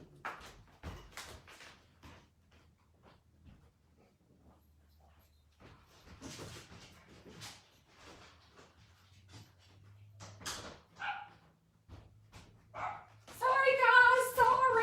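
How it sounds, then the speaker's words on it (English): A household dog gives scattered barks and then a high, whimpering whine near the end, with quiet voices and knocks in the room between the sounds. "I gotta take care of the dog."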